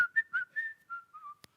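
A person whistling a cheerful tune in imitation, a short series of clear pitched notes rising and falling over under two seconds, close and alone, ending with a faint click.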